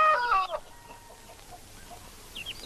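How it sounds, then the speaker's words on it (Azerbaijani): A rooster lets out a short, sharp call at the start, then settles into faint, scattered clucks over a quiet background. "Xoruz."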